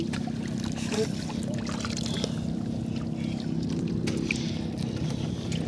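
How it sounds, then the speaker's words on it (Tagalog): Strong river current rushes steadily around a small fishing boat at night, a continuous close, broadband wash of flowing water with faint trickling and occasional hull knocks. "Malakas ang agos kaibigan."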